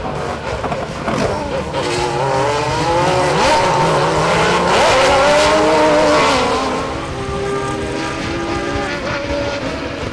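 Race cars roar past on a circuit in a Barbados round of the CMRC 2014 championship, engines rising and falling in pitch as they pass, loud and sustained with a commentator's voice faintly underneath.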